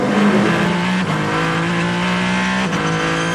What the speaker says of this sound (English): That is the Kessel Racing Ferrari